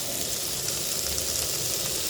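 Capsicum frying in a pan for pepper chicken, a steady close hissing sizzle that holds even and unbroken throughout.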